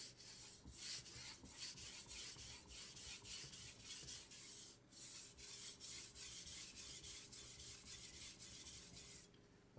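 A kitchen cleaver drawn heel to tip across a wet 1000 grit whetstone, giving a steady run of close, gritty rasping strokes in a regular rhythm with brief pauses between passes, heard alone.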